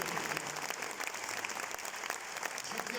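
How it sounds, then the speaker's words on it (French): An audience claps for an award presentation at the Olympia during a sailors' ceremony, dense, even applause from a crowd heard at moderate distance for a few seconds. "On peut aussi vous applaudir et vous remercier."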